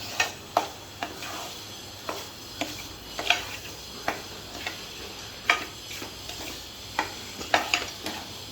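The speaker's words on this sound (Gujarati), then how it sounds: "આ આપણું શેકાઈ રહ્યો છે લોટ અને મેંગો પલ્પ" Flour and mango pulp roasting in a pan while being stirred, with rhythmic scraping strokes about once a second over a soft, constant sizzle.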